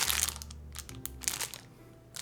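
A candy wrapper crinkles and crackles in close, irregular bursts as it is pulled open, loud at first and thinning toward the end, with no one talking.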